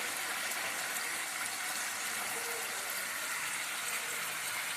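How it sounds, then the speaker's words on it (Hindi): Water gushes steadily into a cooking pot while preparing chicken haleem, a continuous broadband pour with no voices. "इसी तरह से आपने 13 से 15 कप पानी डाल देना"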